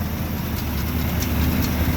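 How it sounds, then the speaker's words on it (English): The engine of a 1957 Chevy 210 runs with an exhaust leak, producing a loud, continuous rumbling roar with a harsh, hissy edge. The sound stays steady and close throughout, with no talking. "The exhaust leak over here."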